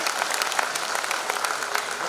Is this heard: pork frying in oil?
no